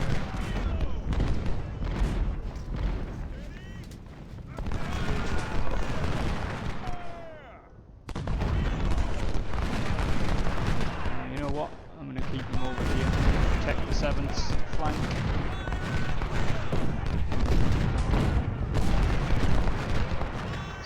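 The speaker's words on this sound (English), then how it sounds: "The Outriders just get flanked by artillery" Heavy artillery and massed musket fire from a Union campaign battle in Ultimate General: Civil War, dense overlapping booms and crackling volleys that pause briefly near the middle then resume in relentless bursts, with a voice talking underneath.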